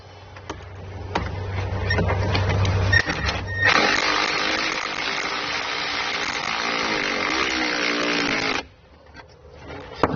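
A power tool drives a 10 mm nut down onto a stud during a trailer hitch install on a 2018 Audi Q5, starting with brief clicks and then a loud, steady whir for about five seconds before stopping abruptly.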